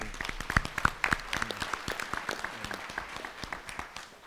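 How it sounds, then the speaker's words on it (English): An audience claps steadily for students at a school board budget listening session in a high school, the applause dense and sustained with a few sharper claps standing out near the start. "I just want to applaud them again for the great job they"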